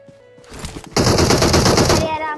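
A video game gun fires a sustained rapid automatic burst, loud and close, after a short lead-in of clatter and faint game sound.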